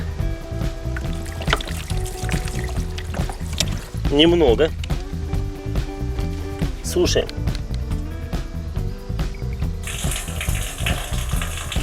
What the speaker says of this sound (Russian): я просто налью воды и должно быть слышно журчание